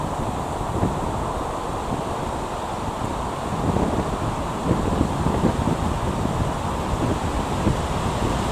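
Wind blowing across an outdoor disc golf course (Bristol Pirates club hunters course) makes a steady, loud rushing roar against the microphone that swells slightly in gusts, with no voices.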